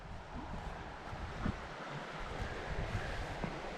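A small burn tumbles down to join a larger river in a wintry Scottish wilderness, making a faint, continuous rushing wash mixed with gusty wind noise.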